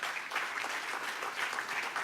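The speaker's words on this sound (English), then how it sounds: "Let's give her a wonderful round of applause." An audience applauds a presenter after a talk at a diaspora panel discussion, a steady, moderately loud wash of many hands clapping that runs evenly throughout with no one speaking.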